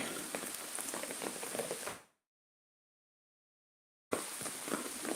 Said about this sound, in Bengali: আজকে দুই দিন যাবৎ প্রচণ্ড বৃষ্টি হচ্ছে আমাদের এলাকায়